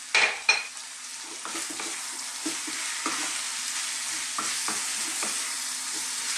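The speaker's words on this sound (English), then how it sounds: "What I'd like to do now is cook this all, stirring it continuously for about 3 or 4 minutes." Turmeric, cumin, coriander and chilli powders fry and sizzle in a pan as a spoon stirs them, with a quiet steady hiss broken by repeated scraping knocks of the utensil against the pan.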